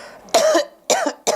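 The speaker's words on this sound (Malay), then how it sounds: "Ni start gatal nak batuk." A man coughs three times in quick succession, close to the microphone, each cough short and sharp with brief quiet between them.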